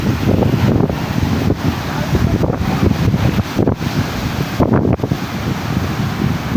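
Strong wind buffets the microphone in continuous gusts, a loud rumbling roar with brief lulls.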